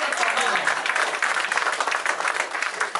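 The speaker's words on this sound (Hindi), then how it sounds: "सही अगर कहा हो तो ताली बजाइए।" Audience applause at a Hindi kavi sammelan poetry recital in Dwarka, New Delhi: dense, loud, steady clapping from a crowd that runs the whole three seconds with no break.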